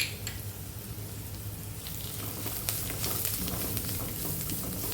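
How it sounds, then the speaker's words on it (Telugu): Coriander powder, cumin and crushed garlic fry in a pan for Telangana-style pacchi pulusu, a close, even sizzle with light crackles growing slightly busier toward the end. "కొద్దిగా ధనియాల పొడి, కొత్తిమీర వేసి ఫ్రై కాసేపు ఫ్రై చేసుకుందాం."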